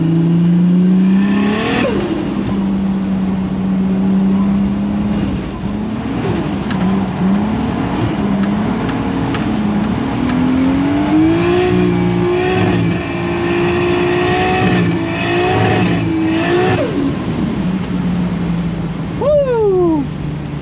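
An 820hp Nissan Skyline R34 accelerates hard through the gears, its engine rising and dropping in repeated loud revving sweeps with gear changes, heard close from inside the car over a constant road rumble.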